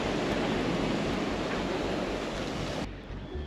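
Maui ocean water, dark with soot and burnt wood, crashes against the shore in a steady, loud broadband roar of surf that cuts off abruptly near the end.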